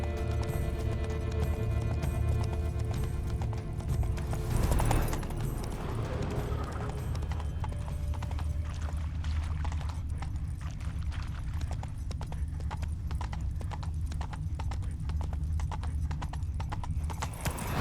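Rapid clip-clop of galloping horse hooves in The Witcher 3: Blood and Wine, loud and steady throughout, over a dense rumbling game soundscape with a brief whinny-like burst early on.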